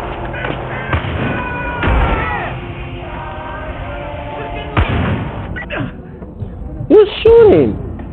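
Video game gunfire and blasts from Far Cry 5's Hope County jail fight, with several loud booming shots and crackles mixed with game voices and shouting.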